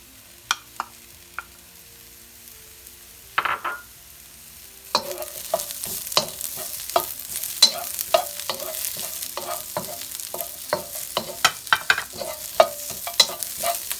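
Garlic frying in a hot pan for Canadian bacon and pineapple fried rice: quiet sparse clicks give way to a louder, steady sizzle with repeated sharp scraping and stirring strokes, close and without talk.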